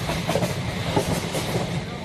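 Train wheels clatter on rails in a continuous, rhythmic rumble with a faint hiss, a short steady stretch of moving-train noise.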